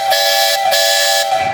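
A steam traction engine's whistle at a threshers' parade gives one loud, sustained shrill blast with brief dips in the middle, close at hand and with no voices.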